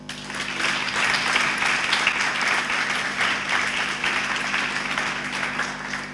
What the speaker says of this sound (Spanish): para quien le pido a todos ustedes un fuerte aplauso